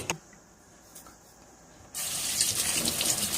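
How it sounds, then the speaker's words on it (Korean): Cold tap water runs into a sink to rinse freshly blanched shiitake mushrooms, a faint trickle swelling into a loud, steady gush after a quiet start, with no talking. "너무 뜨거워서 찬물에 한번 헹궈야겠다 찬물에 한번 헹궜어"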